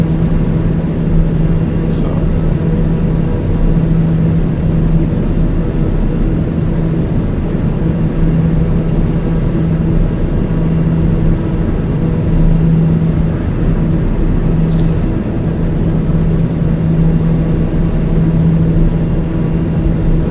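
Steady drone of a small airplane's engine in flight, a constant hum holding evenly throughout with no break.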